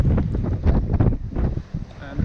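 A Lagoon 42 catamaran sails on open sea between Italy and Albania, with strong, continuous wind roaring across the microphone and rushing water beneath, loud and close, while a voice talks at times over it.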